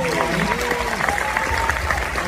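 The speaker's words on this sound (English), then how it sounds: "I'll give him a round of applause" An audience applauds the timpani soloist at a high school fall band concert, a steady patter of clapping in a hall, mixed with a voice and crowd murmur.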